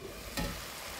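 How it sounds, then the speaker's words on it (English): Pork steaks sizzle in a frying pan, giving a brief, quiet, even crackle of hot fat. "That's sizzling away lovely."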